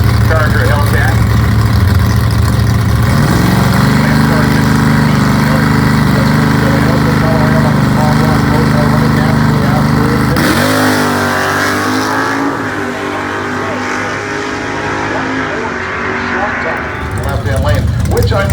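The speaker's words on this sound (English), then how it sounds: "Chris Vanderwalker, the 2021 Charger Hellcat." A 2021 Dodge Charger Hellcat's engine roars loud and close at a drag strip during Dragweek at Cordova, with steady heavy rumble and a rising rev change partway through, under an announcer's voice.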